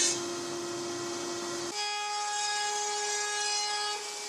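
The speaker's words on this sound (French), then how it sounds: "j'utilise cette nouvelle scie sur table plutôt que celle que j'utilise d'habitude" A new table saw cuts salvaged wood for drawer fronts, a steady whining motor hum with a sharp pitch shift partway through as the blade bites, close and fairly quiet with no talk.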